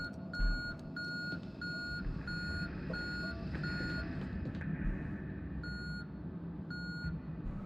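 Rhythmic electronic beeps in the video game Conarium pulse at an even pace over a dense, low ambient rumble. They pause partway through, then return for a few more tones, with no talking.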